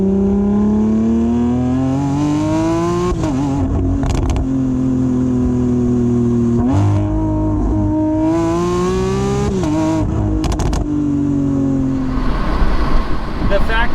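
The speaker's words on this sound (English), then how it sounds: "naturally aspirated V12s are the best" A Lamborghini Aventador SVJ Roadster with a 759 hp naturally aspirated V12 gives a loud, continuous engine roar that rises and dips in pitch through gear changes, heard up close.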